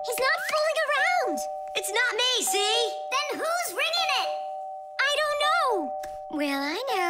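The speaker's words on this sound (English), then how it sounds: "The doorbell's ringing" A two-tone ding-dong doorbell chime rings repeatedly beneath excited, high-pitched cartoonish voices talking over it.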